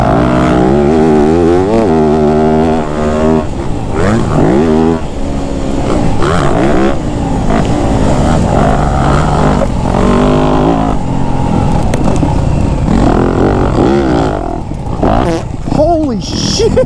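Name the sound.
dirt bike engine revving while riding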